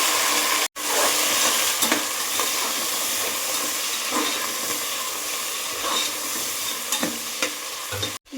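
Onions and masala frying in a pan for a green masala chicken biryani make a continuous, loud, dense sizzle, broken by occasional stirring scrapes and one brief cut near the start and end, with no talking.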